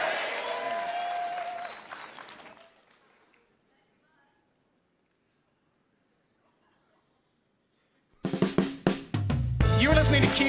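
A live theatre audience at the Vogue Theatre in Vancouver claps at a radio show taping: loud applause fades out, then near silence, before a sudden burst of clapping and cheering returns loud and full.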